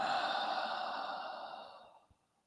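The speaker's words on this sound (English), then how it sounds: "breathing out, focusing on the breath" A long, deep breath out through the nose and mouth during a guided meditation, a soft airy exhale that fades away over about two seconds, alone and close.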